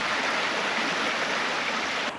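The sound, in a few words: river stream flowing near planting spot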